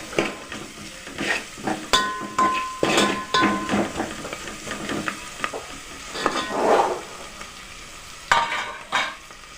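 Onions frying with salt in a pan, stirred with a utensil that scrapes and clinks against the metal over a steady sizzle, with repeated close stirring strokes and no voices.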